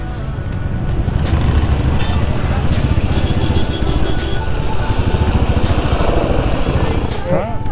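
Motorcycle engine droning and rumbling close by on a snowy off-road mountain route in rainy weather, loud and steady for several seconds with a rider's voice talking over it.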